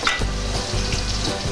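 Peppers and onions fry in a pan over lowered heat for an octopus and chickpea dish. The close, steady sizzle and crackle fills the whole moment, with no voices.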